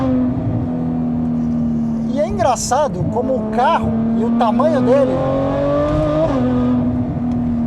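A Ferrari F12 Berlinetta V12 revs up at night, pitch rising in repeated swoops through the gears over a steady engine drone, loud and close, with someone talking over it.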